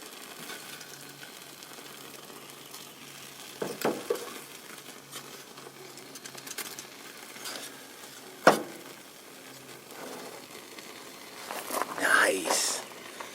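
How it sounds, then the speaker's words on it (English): A faint, steady crackling sizzle runs throughout, close and quiet, broken by a few louder pops and rustles. "Can you hear that sizzle?"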